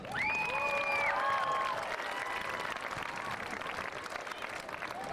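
A crowd of guests at a graduation ceremony applauds, steady broad clapping that rises and then holds, with a few voices and a whistle-like call ringing over it early on.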